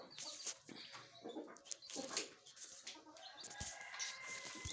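Chickens cluck and call steadily around a coop where hens sit on eggs, a busy mix of overlapping bird voices, fairly close, with a few sharper squawks and no speech.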